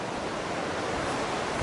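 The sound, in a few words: ocean waves at a coastal campsite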